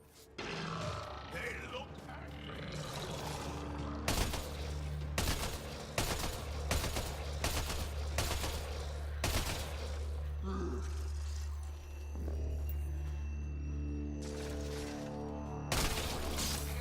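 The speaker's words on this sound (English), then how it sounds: "Shooting the device will destroy it." Gunfire in the video game Mass Effect Andromeda aimed at a Kett device: repeated loud, sharp bursts of shots spread across the scene over a steady game ambience, with occasional speech in between.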